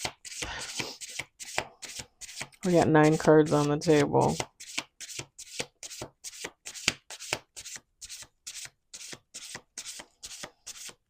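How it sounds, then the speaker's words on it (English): Rapid riffle-shuffling of playing cards, a dense fluttering burst lasting about two seconds, surrounded by steady rhythmic card snaps and a brief spoken remark. "Let's do one more shuffle."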